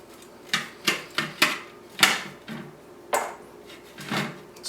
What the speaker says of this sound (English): And now what I'm going to do is I'm going to cut off the top.